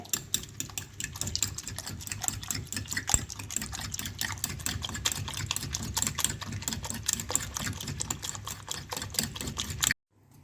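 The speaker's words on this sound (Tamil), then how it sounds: "முட்டையை நல்லா பீட் பண்ணிக்கோங்க" Eggs seasoned with salt and white pepper being beaten hard in a bowl for an omelette, a fast, even run of close clicking whisk strokes lasting about ten seconds and then stopping abruptly, no voices.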